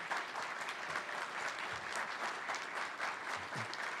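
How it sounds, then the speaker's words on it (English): Steady applause from a panel audience for student filmmakers, many hands clapping at a fairly quiet, distant level, constant across the few seconds with a few low murmurs beneath. "A round of applause."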